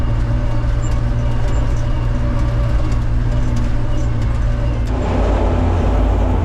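A John Deere 1032 combine harvester drives along a rough road, its engine a steady, close, heavy drone with rattling and clanking throughout, shifting to a deeper rumble near the end.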